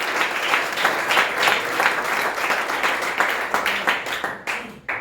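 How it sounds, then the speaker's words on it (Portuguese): Church congregation applauding during a worship service, a steady wash of many hands clapping for several seconds, thinning into scattered claps near the end. "Aplauda Jesus"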